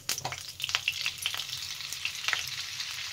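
Butter melts in a kadai with a steady close sizzle and frying crackle, broken by scattered sharp pops and spits, and no voices.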